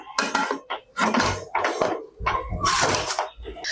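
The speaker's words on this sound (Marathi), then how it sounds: "आता हे भांडं मी कुकरमध्ये ठेवणार आहे" A metal pot of lemon pickle clanks and clatters loudly as it is set down inside a pressure cooker, with several sharp knocks in quick succession.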